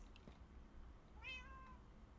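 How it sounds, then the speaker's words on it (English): A cat meows once, a clear drawn-out call of about half a second, fairly close in a quiet room with low background hum. "Did I just hear a cat?"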